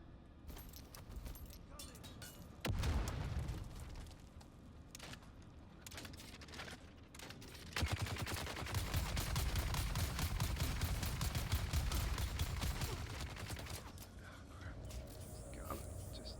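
Gunfire from a gun in Dune: Awakening: bursts of shots in two dense stretches, one brief and one longer, over steady game ambience, with soft background voices.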